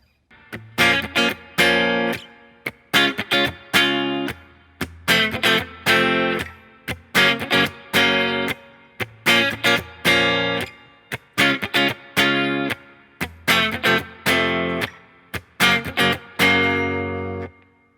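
Distorted guitar strums the chord progression of a song in short rhythmic bursts separated by brief gaps, loud and close, ending on a sustained chord.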